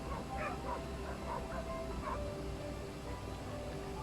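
Puppies yip and whimper in short, high cries scattered across a steady low background hum, with the calls fairly faint and intermittent.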